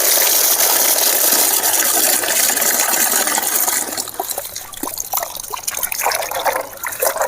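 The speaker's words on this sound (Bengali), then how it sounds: "এবার আমি হলুদগুলো ভালো করে ধুয়ে নিচ্ছি।" Turmeric roots are washed in running water, with a steady, close gush and splash of liquid that turns choppier and more broken midway as the roots are handled.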